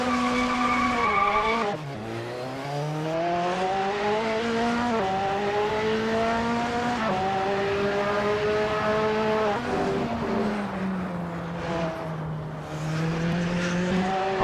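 Lola B05/40 AER LMP2 prototype race cars at a race start, with a loud, sustained engine wail that rises and falls in pitch through gear changes and continues without pause.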